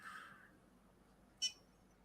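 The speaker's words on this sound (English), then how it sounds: "We've got beep when the ball hits the outside." Arduino-built Pong game giving a short electronic beep as the ball hits the edge of the screen, a single brief tone after a faint earlier blip, quiet and alone.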